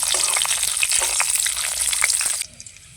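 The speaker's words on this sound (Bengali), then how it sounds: "পাঁচফোড়ন একটু নাড়াচাড়া করে দিচ্ছি" Bay leaf pieces, a dried red chili and panch phoron spluttering in hot oil, stirred with a spoon: a loud, dense sizzle with crackles that cuts off sharply near the end, leaving quiet scraping.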